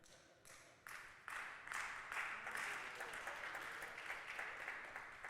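Church congregation applauding during a sermon on worship, a swelling burst of many hands clapping that builds within the first second and holds steady and dense throughout, with no talking over it.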